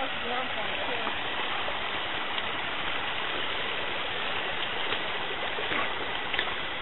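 The Autrain River flows near a waterfall in a steady, full rush of water that holds even throughout, a close and constant wash with no talk over it.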